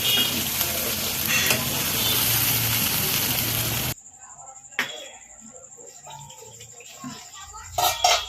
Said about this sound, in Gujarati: 5 મિનિટ માટે ગ્રેવીને થવા દઈશું ધીમા તાપે.